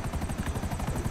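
Rotor chop of a smoking, damaged helicopter in GTA 5 Online, a steady rapid thumping pulse with a whining top layer, continuous and fairly loud with no voices.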